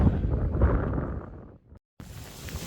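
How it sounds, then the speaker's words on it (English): Strong stormy wind at the Gibraltar lighthouse roars and buffets the microphone in loud gusts, dropping briefly to near silence before the rush returns. "It's getting really stormy weather here now. It's really windy."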